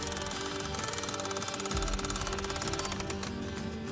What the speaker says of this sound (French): Voici le marteau-piqueur.